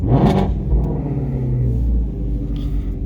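The deep V8 of a 2018 Shelby GT350 rumbles steadily from inside the car, with a throaty rev early on and a low, continuous burble after.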